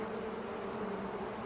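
Bees buzz around a fireman in an animated railway story, a steady close drone at moderate level that holds without break, with no talk over it.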